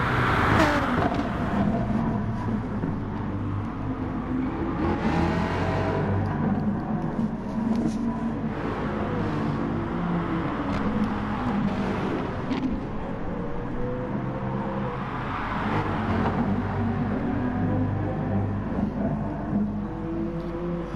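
Racing cars drive around the Lago Maggiore circuit in a race, engines droning and swelling continuously as cars pass, a steady dense mechanical roar for about twenty seconds.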